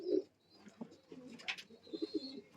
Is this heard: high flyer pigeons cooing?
yes